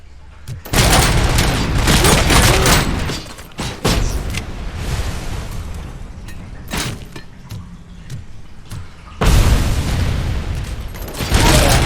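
A grenade blast and gunfire in the shooter game Robocop: Rogue City: loud broadband bursts and booming hits that come in heavy waves with short gaps, a fresh loud burst near the end, and brief speech mixed in.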